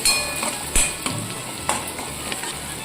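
Cumin, mustard seeds and turmeric sizzle and crackle in hot oil while a spoon stirs and scrapes the pan, making close, steady frying noise with a few sharp clinks.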